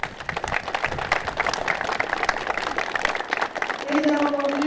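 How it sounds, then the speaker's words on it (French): An audience at a defence and security careers forum claps, a steady patter of scattered hand claps of moderate loudness, with a voice heard over it. "j'aimerais qu'on l'applaudisse"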